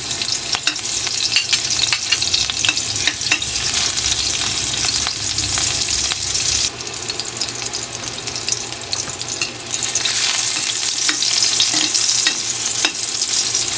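Garlic sautéing in a hot pan for a Filipino vegetable and chicken liver stir-fry, a loud, steady, close sizzle with scraping stirs that lasts the whole time, with no talk.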